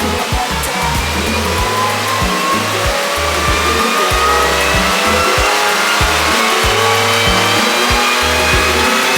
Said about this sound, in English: Just getting prepared now for the first dyno run.